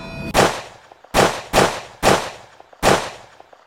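Five sharp gunshots from a .38 revolver ring out as a sound effect, fired in an uneven quick sequence, each a loud close crack with a short decaying tail.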